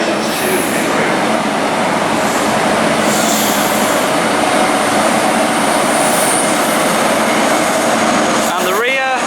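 Train passing through Reading station on the Great Western Main Line, a loud continuous rushing roar filling the whole stretch, ending with a squeal.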